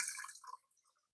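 A cocktail is single-strained and poured into a Collins glass with ice. It makes a short, splashy, trickling pour that fades within about half a second, with a few faint drips after.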